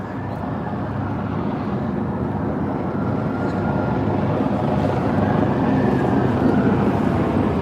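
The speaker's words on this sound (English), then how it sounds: "And the helicopter's up there somewhere. I can hear him." A police helicopter over a Hong Kong street gives a steady low rumbling drone that swells slightly louder over several seconds, blurred by the city's echoes with no clear direction.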